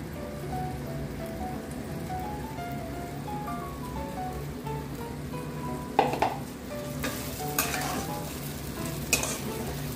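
Cauliflower frying and being stirred in a pan for a spiced roast, a continuous sizzle with a few sharper scraping stirs of a utensil near the end, close and steady, with no talk.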